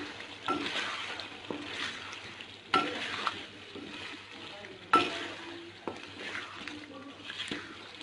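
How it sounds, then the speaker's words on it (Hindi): Chicken karahi with turmeric, salt and black pepper sautéing in a pan: soft sizzling broken by repeated scraping and stirring strokes of a spoon against the metal, with a few sharper knocks, close up. "अब इसको बहुत ही अच्छे तरीके से भूनते हैं।"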